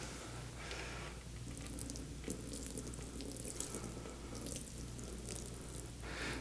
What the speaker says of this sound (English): I'm going to put the water on the mat.